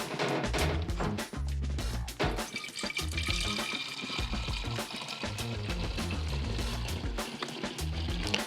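Water-alcohol car degreaser pours from a full container through a special spout in a steady close trickle, continuing for several seconds over faint background noise.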